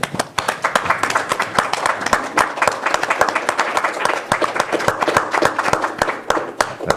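Applause breaks out at a county board of supervisors meeting, a dense, fairly close round of clapping from a small crowd, lasting several seconds and holding an even, steady intensity.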